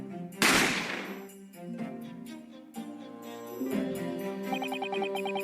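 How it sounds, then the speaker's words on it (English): A single sharp gunshot cracks out loud near the start in The Great Ace Attorney Chronicles, a detective courtroom game, then gives way to the game's background music, which carries on with tinkling chimes toward the end. "I didn't have time to think about where the sound of the gunshot had come from"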